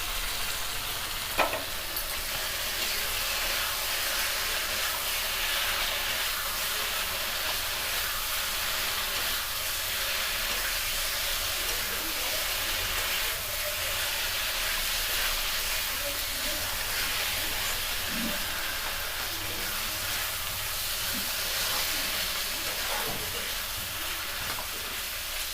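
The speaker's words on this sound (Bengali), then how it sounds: "ঠিক ঢাকা দিয়ে আমরা 2 মিনিটের মতন আমরা মাছটা কষিয়ে নিই।" Fish pieces, already fried, simmer in a spice paste in a covered pan for a Bengali shimul fish jhal, giving a steady soft sizzle and hiss that runs evenly throughout with no voices.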